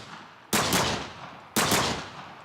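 Handgun fire in Minecraft with an N9 pistol: two sharp, loud shots about a second apart, each with a short decaying tail and no talk over them.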